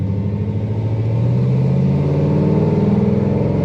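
An LS-swapped K5 Blazer's engine, freshly tuned, revs up under acceleration with a steady, rising drone that builds in pitch over a few seconds, loud and close with no talk.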